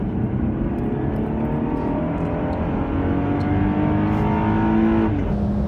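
Volkswagen Golf GTI driving on the Nürburgring race track, with a loud, continuous engine drone heard from inside the car as the revs rise and shift steadily.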